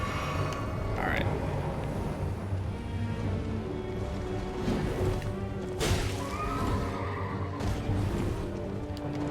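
Horse whinnying in the video game Elden Ring during a mounted boss fight, a sharp rising neigh near the start amid clashing combat impacts and hoofbeats, with someone talking over it.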